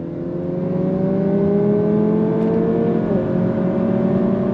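Lexus UX 300h F Sport hybrid on 18-inch wheels pulling hard under throttle, a steady close engine drone with rising, sweeping tones that climb and then reset, loud and continuous with no talk.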